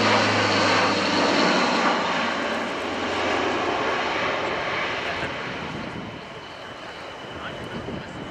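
Airbus A400M Atlas military transport turboprop at a flight display, steady loud broadband engine roar that slowly fades as the aircraft moves away.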